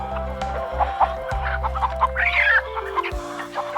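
Cartoon chickens cluck in quick, choppy bursts close up over a low droning musical background, several short clucks in a row with no speech.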